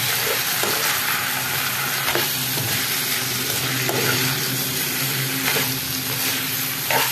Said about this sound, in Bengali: এটা চালটা এই তরকারির সাথে একটু ভালো করে ভাজা ভাজা করতে হবে